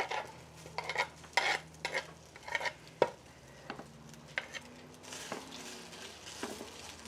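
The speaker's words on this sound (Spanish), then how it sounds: "Ya tengo aquí calentando la cazuela para poner a dorar el tocino." Bacon browning in its own fat in a hot clay cazuela with no oil, heard as a soft background sizzle under repeated close scrapes and stirring strokes of a utensil against the pot.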